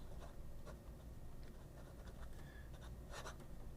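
An ASVINE V200 fountain pen with a Fountain Pen Revolution Ultra Flex nib writing on paper, soft close scratches and strokes in short bursts over a quiet, steady background.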